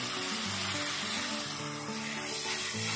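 Chopped medium tomato frying in spiced masala in a pan, giving a steady, close, continuous sizzle with no talking over it.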